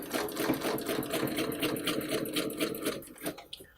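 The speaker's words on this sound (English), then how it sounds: "Stitch the next half of the heart" A sewing machine stitches a quilted heart along a ruler template, its needle hammering in a fast, even mechanical rhythm up close, easing off at the very end.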